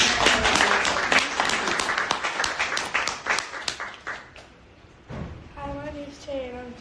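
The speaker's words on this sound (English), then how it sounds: "a huge round of applause for Che, please." Audience applause at a House of Lords gathering, loud clapping that thins and dies away, followed by a person starting to speak.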